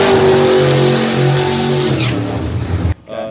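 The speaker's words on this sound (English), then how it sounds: "So this has a 565 cubic inch Big Block Chevy built by Rare Morrison out of Texas." Race car powered by a 565 cubic inch Big Block Chevy engine revs loud and close, a deep roaring blast that holds steady and then cuts off abruptly, with a brief lighter sound afterward.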